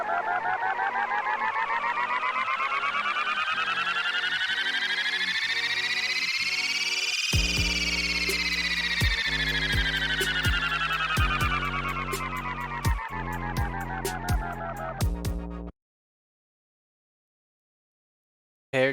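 An electronic transition effect made by resampling audio in FL Studio 20's Edison, heard as a dense synthetic wash whose pitch sweeps upward then back down, with rhythmic drum-like hits entering halfway before stopping abruptly into silence.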